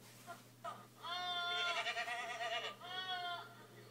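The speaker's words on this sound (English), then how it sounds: "Goats yelling like humans." Goats in a played-back recording bleat loudly in drawn-out, almost human-sounding yells, one long cry followed by a shorter one, over a steady low hum.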